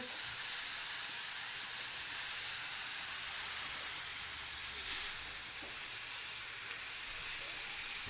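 Steak searing in a hot pan for an inexpensive steak dinner; a loud, continuous hissing sizzle holds steady throughout with no breaks, close and alone.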